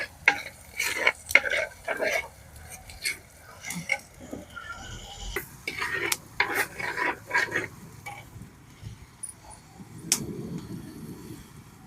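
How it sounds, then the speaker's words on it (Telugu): Masala is fried and stirred in a clay pot for gongura chicken, with scattered scraping and clinking strokes of a utensil against the pot, close and moderately loud, then a softer sizzle near the end. "పచ్చివాసన పోయేంత వరకు మనం ఈ మసాలా అనేది బాగా వేయించుకోవాలి."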